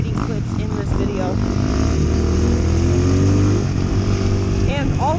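A dirt bike engine drones and shifts pitch while trail riding, revving up and settling back in a loud, continuous buzz heard close up with wind rumble.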